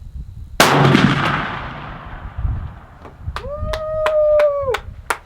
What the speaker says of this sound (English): he shot a 45 caliber 250 grain XP bullet out of his muzzleloader